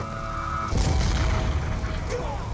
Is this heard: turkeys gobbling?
no